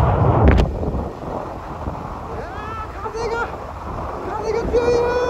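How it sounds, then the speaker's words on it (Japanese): Strong wind blows into the microphone outdoors in Hokuto, Hokkaido, beside a Super Cub 90 motorbike stop, with a sharp knock at the start and a voice speaking briefly over the steady rush. "風が強いよ。"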